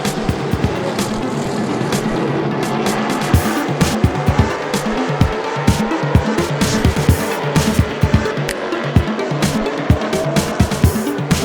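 Stock cars race at Kingsport Speedway, loud engines roaring and droning as a pack passes, with sharp repeated clicks and bangs over a wash of crowd and track noise.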